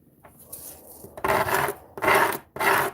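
Coarse 80 grit sandpaper is rubbed by hand in three loud, rasping strokes up close, after a short fainter scrape at the start, with nothing else heard.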